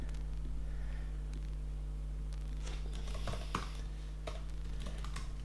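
Faint typing on a computer keyboard while renaming a workflow, scattered soft key clicks over a steady electrical hum, with no talking.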